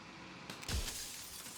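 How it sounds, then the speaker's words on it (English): Mirror cracking and splintering into jagged glass shards in the video game Slay the Princess, a sharp shattering burst that stands out against a quiet ambient background. "Another crack forms another, turning the mirror into jagged shards of broken glass."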